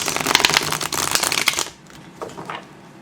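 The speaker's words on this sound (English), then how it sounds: "Let's give this a quick shuffle." A tarot deck is riffle-shuffled in quick, crisp card flutters for about a second and a half, followed by a few softer taps and settling sounds.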